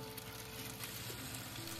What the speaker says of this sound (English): Let the beef pan fry until the bottom has a good sear.